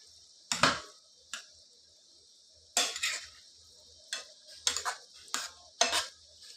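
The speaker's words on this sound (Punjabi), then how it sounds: "ਆਲੂਆਂ ਨੂੰ ਆਪਾਂ ਚੰਗੀ ਤਰ੍ਹਾਂ ਹਲਾਉਂਦੇ ਰਵਾਂਗੇ ਤਾਂ ਜੋ ਵਧੀਆ ਤਰੀਕੇ ਨਾਲ ਪੱਕ ਸਕਣ" Potatoes added to a ghee tempering are stirred in a pan, giving sparse, sharp metallic scrapes and clinks in short bursts separated by near silence.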